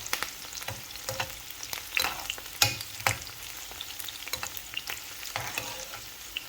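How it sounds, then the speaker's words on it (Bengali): Garlic and onions fry in a pan with a continuous sizzle, broken by sharp clicks and scrapes from stirring. "এখন রসুন আর পেঁয়াজগুলো বাজা বাজা হয়ে যায়"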